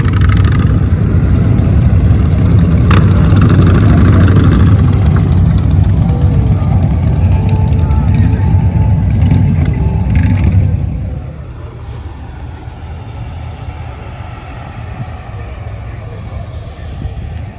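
A loud, close motorcycle engine rumbles and revs for about ten seconds, then drops to a lower, steadier idle. Crowd noise from a veterans' motorcycle run murmurs underneath.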